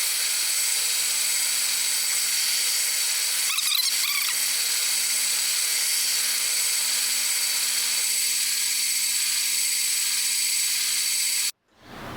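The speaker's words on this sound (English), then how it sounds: "I've got my drill press all set up." A drill press with a 1/8 inch brad point bit boring into a guitar neck: a steady, even motor whine and drilling hum runs unbroken for about eleven seconds, then cuts off abruptly.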